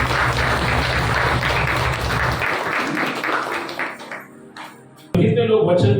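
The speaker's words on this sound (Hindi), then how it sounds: "आइए जोरदार तालियों के द्वारा प्रभु को नमस्ते करें" Loud, sustained applause from a church congregation for several seconds, fading out, followed by a brief burst of voices and noise.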